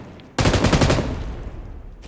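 Gunfire in the mobile battle game PUBG Mobile: a sudden loud burst of rapid automatic shots starting after a short quiet moment, then a fading echoing tail.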